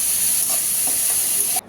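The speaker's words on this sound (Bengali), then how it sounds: "তো পেঁয়াজ বেরেস্তা হওয়ার জন্য পেঁয়াজটা ভাজা বসালাম" Grated onions fry in hot oil for crisp fried onions, a steady, loud, close sizzling hiss that cuts off abruptly.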